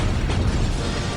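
Heavy weapon fire in a Warhammer 40K video game booms as a dense, sustained explosive rumble, loud and steady across the whole moment with no voices.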